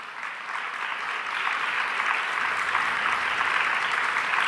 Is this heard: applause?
yes